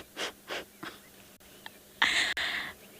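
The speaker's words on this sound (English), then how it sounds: "See, she's panting." A large wild animal panting heavily on an afternoon safari drive in South Africa, after overeating. Short breathy bursts come in a quick rhythm, then a longer, louder harsh exhalation follows, all close by.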